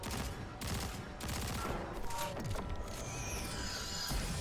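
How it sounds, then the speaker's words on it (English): Rapid submachine gun fire in a video game, a dense burst of overlapping shots that runs almost without gaps for several seconds at steady loudness, with brief mechanical clatter mixed in. "Can I shoot this with an SMG? Oh, I can."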